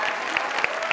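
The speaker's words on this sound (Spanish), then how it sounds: "Un aplauso para él," A brief, dense wash of audience applause at a music faculty event, with a few sharper individual claps standing out.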